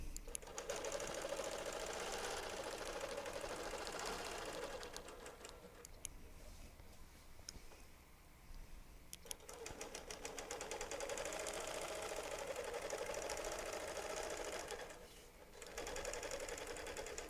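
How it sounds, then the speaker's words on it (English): Sewing machine quilting along a ruler around the perimeter of a box, a steady rapid stitching hum that runs nearly continuously, with short slowdowns and pauses near the middle and end. "So I'm going to go ahead and just quilt the perimeter of this box"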